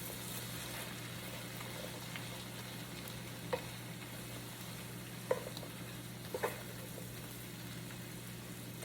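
Bacon stirred into Southern fried cabbage in a pan with the heat off, giving a steady low sizzle with a few soft scraping stirs and clicks of the utensil, no talking.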